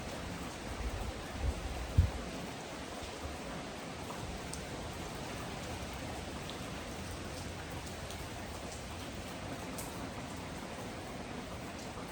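Quiet, even rainfall patters on the ground outside, a faint continuous wash with a few soft bumps early on and no voices.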